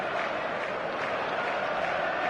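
Dense, steady roar of a packed stadium crowd before a match in the football game eFootball, continuous cheering and applause with no breaks.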